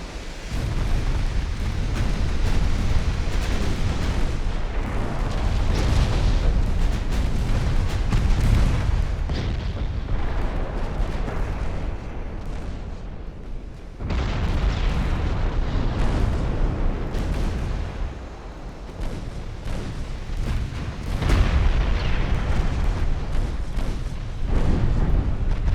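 Heavy 12-inch naval gun shells striking battleships in Ultimate Admiral Dreadnoughts, a 1904 French campaign battle: repeated deep booming explosions and rumbling artillery fire rolling on loudly, with brief lulls between salvos.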